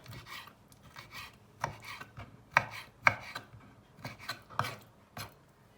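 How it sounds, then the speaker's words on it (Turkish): Repeated knife chops through liver on a cutting board, irregular sharp thuds through soft, wet cutting, close by with no talking. "karaciğer kolay doğranıyor"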